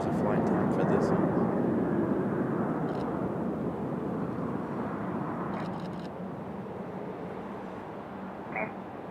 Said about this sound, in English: There's our AeroMexico coming in from Mexico City.